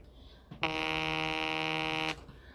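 A timer alarm goes off with one steady, loud electronic buzz that lasts about a second and a half before cutting out, with no talking over it.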